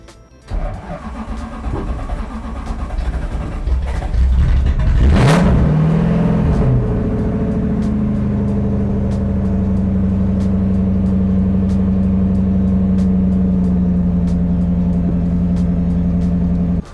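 A Lexus SC car engine cranks, catches and starts, briefly revs up loudly, then drops to a steady, rumbling idle heard up close.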